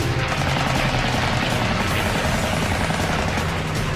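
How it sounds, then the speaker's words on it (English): A World War II fighter plane in Pacific air combat firing its .50 caliber machine guns, a loud, dense, continuous roar of rapid gunfire with engine noise and no break for the full length. "raking the enemy with his 50 cals"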